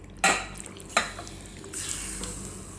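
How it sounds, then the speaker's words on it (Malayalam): Chicken pieces go into a frying pan for a home chicken curry and get stirred, giving two sharp clattering hits followed by a steady sizzle that builds louder toward the end, with no voices. "ഇതിലേക്ക് നമുക്ക് ചിക്കൻ ഇട്ട് കൊടുക്കാം."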